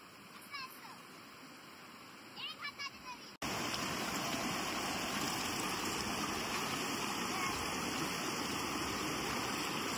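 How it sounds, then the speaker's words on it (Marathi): Heavy rain pours down in a village, opening after a short, quieter stretch with faint voices, then switching abruptly to a loud, dense, steady roar of water that fills the rest of the clip. "पाऊस खूप आहे, पाऊस."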